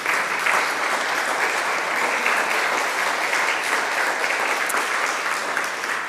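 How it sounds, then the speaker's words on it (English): A congregation at an annual parish meeting claps in warm, sustained applause, dense and even for about six seconds without a break. "let's give applause"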